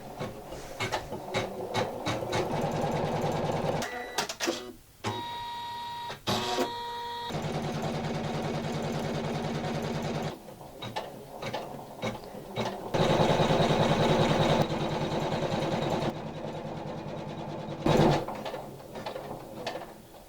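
Janome Memory Craft 500E embroidery machine stitching continuously nearby with a fast, rhythmic mechanical clatter, shifting in tempo and pausing briefly in places between bursts of needle movement.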